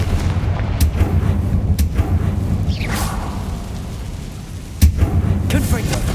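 A Confringo fire spell blasts in the Hogwarts Legacy video game, a sharp booming hit with a whooshing trail, heard loud over the game's steady background ambience.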